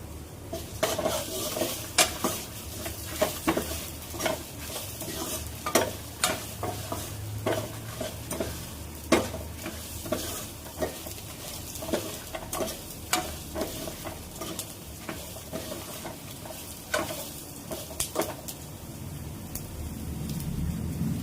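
Mutton curry masala with chillies and coriander sizzles steadily in a pan while a spoon scrapes and clinks against the metal in irregular strokes throughout, close and fairly quiet, with no talk.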